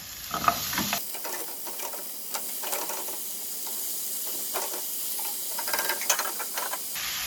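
Pork ribs go into a hot pan for Thai spicy dry pork ribs: after a short clatter, a strong, even sizzle and hiss takes over and runs close and continuous, with occasional faint stirring clicks.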